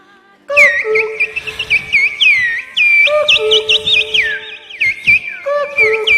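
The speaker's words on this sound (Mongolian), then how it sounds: "манан хаг зүсээд хөхөөн донгодох чимээ" Whistled cuckoo calls ring out in repeated bursts, bright chirping phrases layered over one another, fairly close and loud, with short pauses between bouts.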